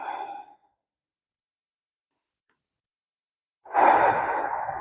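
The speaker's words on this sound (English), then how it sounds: "Breathing into the side body." Two soft, audible breaths frame a yoga side bend, a gentle exhale fading at the start and a fuller, breathy inhale swelling near the end, with near silence between them.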